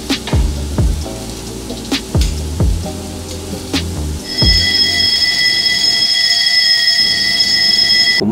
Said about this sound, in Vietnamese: Cũng may là hôm đó nó báo cháy giả chứ không là đi bán muối rồi.